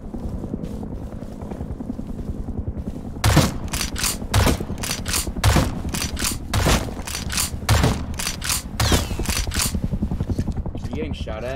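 Gunfire in the survival game Rust, a regular series of sharp loud shots about once per second, over a steady helicopter-like drone and people talking throughout.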